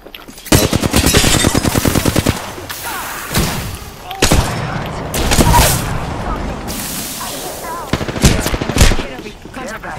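Gunfire in the video game Apex Legends, loud rapid automatic bursts and single heavy shots with thuds, close and continuous, with a voice speaking over parts of it.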